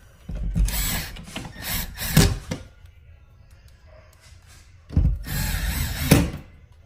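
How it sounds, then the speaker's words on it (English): A Cat6 network wall plate is screwed onto a wall in two separate bursts of buzzing, grinding tool noise, each lasting about two seconds, with a quiet pause between them. "And then the last part about this is just screwing the wall plate onto the wall."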